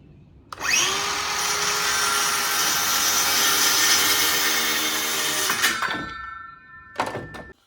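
A power drill whirs steadily for about five seconds, driving screws into wooden window trim on an old shed being renovated, then stops with a brief second burst at the end; close and loud, no talking.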